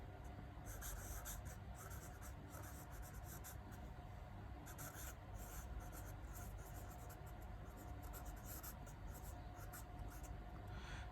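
Pen writing out maths examples on different denominators for a Class 7 lesson, heard as a steady, close scratching of strokes across the page that runs the whole time with no speech.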